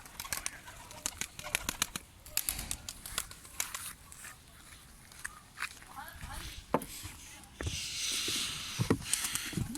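Pigeons in a loft kept for breeding and flying, with scattered bursts of wing flapping, rustling and shuffling close by, and a louder flurry of wingbeats near the end.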